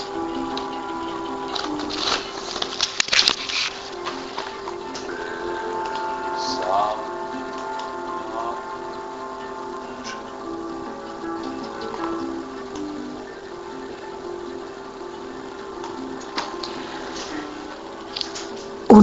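Steady rain falls around someone walking outdoors, a continuous dense patter with scattered louder taps and faint tonal hum running throughout at a fairly close, even level.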